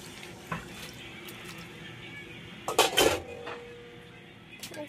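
Water poured into a pot of Bengali chicken kosha, a short splashing burst in the middle over quiet kitchen background, with a faint clink before it.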